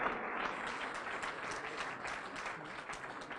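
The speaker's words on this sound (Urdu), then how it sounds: "زوردار تالیاں بجائیں خداوند کے نام کو جلال دینے کے لیے" A congregation at a church gathering applauds warmly, a steady, moderately distant wash of many hands clapping for a few seconds.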